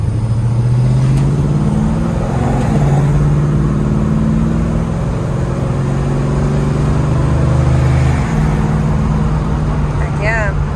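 A 1970 Chevrolet Chevelle with a 3-speed transmission drives along, its engine droning steadily and dropping in pitch as it shifts through gears, with a person talking over the running car.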